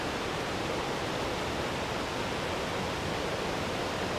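A waterfall on the East Lyn river in Exmoor, a dense, steady rushing roar of falling water, loud and unbroken throughout.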